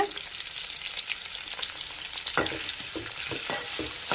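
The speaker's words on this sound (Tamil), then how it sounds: "கத்திரிக்காயை இந்த ஆயிலே ரெண்டுலேருந்து மூணு நிமிஷம் நல்லா நம்ம ஃப்ரை பண்ணி எடுத்துக்கலாம்" Brinjal frying in oil, a steady close sizzle that grows denser partway through, with occasional stirring scrapes and taps in the pan.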